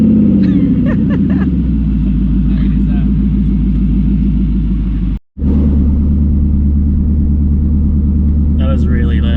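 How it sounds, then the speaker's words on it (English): Nissan Y62 Patrol V8 with no exhaust fitted, loud and close, revving with a rising roar that falls into a heavy, rough idle, cuts out briefly, then rumbles on steadily; people speak faintly over it. "Not very often you get to experience your car without exhaust, especially a V8."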